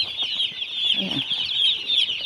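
Newly placed poultry chicks on a farm floor peep continuously in a dense, high chorus, with faint low rustling beneath; the brooder temperature is a bit low.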